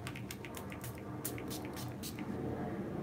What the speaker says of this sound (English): give it a good shake, and then